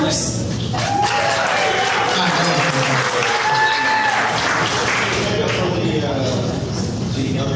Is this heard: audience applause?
yes